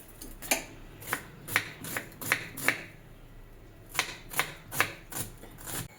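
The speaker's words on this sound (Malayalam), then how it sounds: "നമുക്ക് നമ്മുടെ ഉള്ളി അരിയാം." A knife chops an onion in two quick runs of sharp, evenly spaced taps, about six strikes, then a short pause and five or six more, close and fairly quiet.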